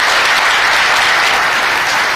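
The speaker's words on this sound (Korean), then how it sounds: "뜨거운 박수 부탁드리겠습니다." Audience applause at a Justice Party (정의당) political event on inter-Korean peace, a steady dense wash of many hands clapping, loud and close, with no talk over it.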